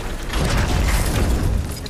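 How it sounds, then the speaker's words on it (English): A machine drops ore into a water trough in God of War Ragnarok, giving a dense, steady rumble of heavy mechanical churning with booming low thuds for about two seconds, loud and close, with no talk. "it looks like this machine is dropping ore into the water trough."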